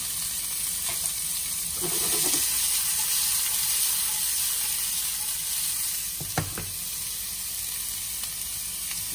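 A pork chop fries in a pan with a steady, close, loud sizzle throughout, broken by a few clinks and scrapes, and no one talks.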